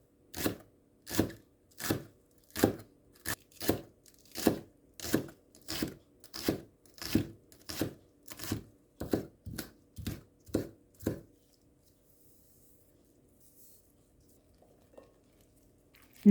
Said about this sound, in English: Have a spring onion and cut.